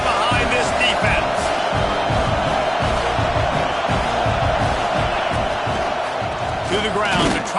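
Stadium crowd at a college football game between Hawaii and Washington roars steadily through a big third-down defensive stand, a dense continuous wall of cheering with scattered whoops and thumps beneath it.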